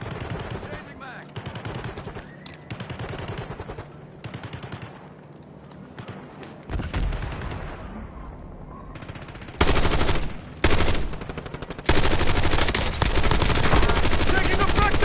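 Bursts of automatic gunfire in the video game Call of Duty: Warzone, loud and close, with rapid volleys separated by short pauses and heavier sustained firing toward the end.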